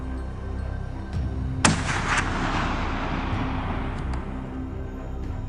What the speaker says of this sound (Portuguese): Então, outro tiro soou.